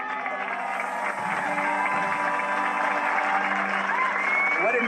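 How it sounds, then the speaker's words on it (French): An audience bursts into sustained applause with scattered cheers at a Chicago dog event honoring a Sheltie owner, a dense wall of clapping that holds steady throughout. "Applaudissez Rosemary et son Sheltie."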